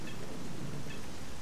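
Brief stretch of steady rain with a low rumble of thunder in a video game set in Zaton near Pripyat, an even wash of falling water with no voices.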